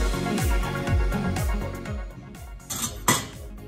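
Waffle batter with yeast being mixed in a bowl, a steady rhythm of scraping, knocking strokes against the bowl about twice a second, then a few louder clinks of utensil on dish.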